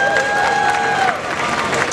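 Audience applause at a cosplay convention in the Dominican Republic, a dense burst of clapping from a crowd that fills the whole moment alongside a faint amplified voice.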